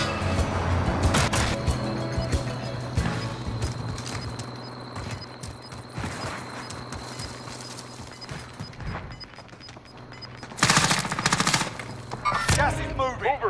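Rapid automatic gunfire rattles in Call of Duty Warzone, loud bursts and single cracks spread through the round, with voices talking over the fighting.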